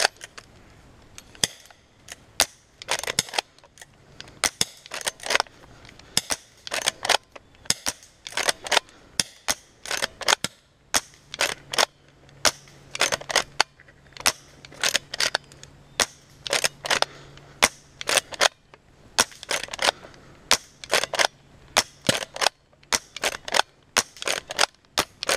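An A&K M1892 lever-action airsoft rifle fires a long run of sharp, snapping shots at an irregular pace, each crack short and close, with brief pauses between bursts and a faint hum underneath.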